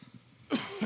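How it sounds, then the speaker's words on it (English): A single short, close cough bursts out after a moment of quiet low murmur, followed by a brief second catch of breath. "Cough in your elbow, please."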